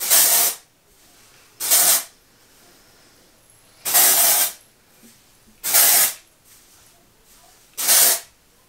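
Dry shampoo sprays onto hair in five separate loud hissing bursts, each lasting about half a second with quiet gaps between them, heard close up.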